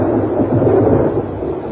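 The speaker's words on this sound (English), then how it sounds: "Lightning is the most dramatic form of energy to be found in nature." Thunder from a lightning strike rolls as a loud, steady low rumble that fills the whole moment without any break, with no voices heard.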